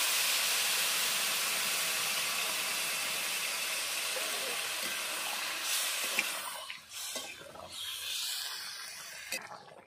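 Water poured into a pan of fried vegetables for shukto, setting off a loud, broad hissing sizzle that holds steady for several seconds, then breaks up into bubbling and a few clinks as it dies down, no voices.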